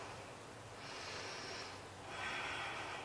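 Steady nasal breathing during a barre core workout plank hold, two soft drawn-out breaths, an inhale and an exhale, close to the microphone with no talk.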